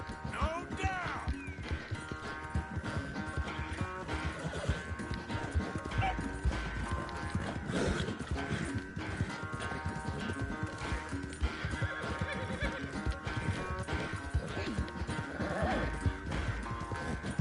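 Hooves drum continuously in a fast gallop while a horse neighs repeatedly over busy game music and effects in Red Dead Redemption 2.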